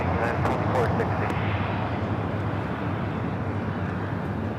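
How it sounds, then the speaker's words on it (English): A Japan Airlines Boeing 787-9 Dreamliner departing Los Angeles for Osaka gives a broad, steady jet roar at takeoff, heard at a distance beneath faint radio chatter and an occasional voice. "Japan Airlines Flight 69 taking off to Osaka on the 787-9 Dreamliner"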